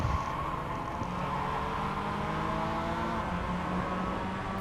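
Race car engine in the iRacing sim, a steady sustained engine drone holding near-constant pitch at moderate level throughout the lap.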